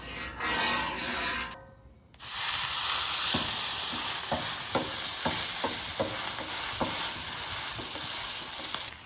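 Smoked tallow sizzles loudly and steadily on a hot Blackstone griddle sear zone, with a spatula scraping and tapping the metal in an uneven rhythm; the frying starts abruptly after a brief quiet moment.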